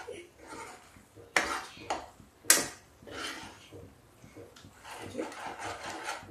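A spoon stirs thick urad dal seasoned with amchur powder in a metal pot, scraping and clinking against the sides in a few sharp knocks amid softer rubbing, close and fairly quiet.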